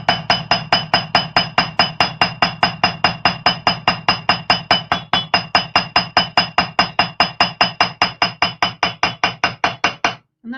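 A round hammer strikes the edge of a metal mixed-media pendant in a fast, even run of about fifty sharp, ringing blows, loud and close, ending abruptly.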